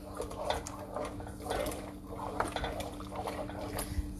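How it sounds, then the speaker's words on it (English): Custard stirred steadily in a pot on a stovetop for banana pudding, a continuous soft scraping and sloshing with faint utensil clinks against the pan, close and moderately quiet throughout. "You cannot let this custard stick. You have to continue to stir it."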